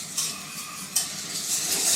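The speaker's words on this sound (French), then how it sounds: "versez délicatement un tout petit peu de lait comme ça pour commencer" Milk poured into a roux for béchamel sauce and stirred in a pan, a soft hissing sizzle with light scraping and a couple of sharp clinks of the utensil against the pan.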